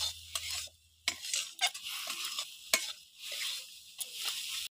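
Spice masala is stirred and mixed in a pan with repeated scraping strokes and light utensil clinks, a faint sizzle underneath, close and moderately quiet, pausing between strokes.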